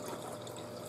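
A refrigerator water dispenser sputters while a new Frigidaire Pure Source Ultra filter is flushed, giving a short, continuous burst of gushing, spattering water up close.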